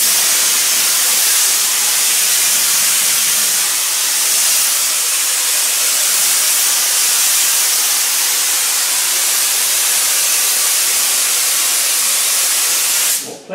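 Spray adhesive hissing from a can onto a headliner backer board for a car restoration, a loud continuous close hiss that holds steady before cutting off at the end.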